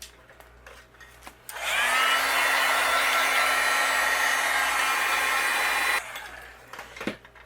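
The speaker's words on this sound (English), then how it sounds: "I'll use my heat gun and we'll melt this." A heat gun melts white embossing powder on a handmade card, switching on as a loud, steady blowing whoosh with a faint rising whine, running for several seconds before cutting off, with quiet handling sounds before and after.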